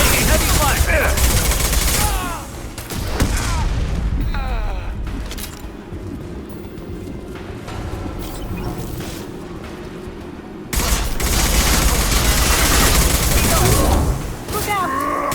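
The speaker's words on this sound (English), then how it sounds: "Taking heavy fire!" Heavy gunfire and blasts in Mass Effect 2 Legendary Edition during a krogan breakout, a dense, continuous barrage that eases in the middle and surges loud again near the end, with shouted voices mixed in.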